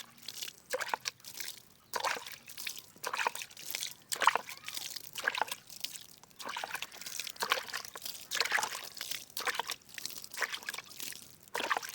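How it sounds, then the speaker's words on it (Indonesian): Water trickles and splashes onto chili seedling growing medium in repeated short bursts, soft and close, pausing briefly between pours. "Oke, kita siram ya teman-teman, biar medianya tuh basah seperti ini aja."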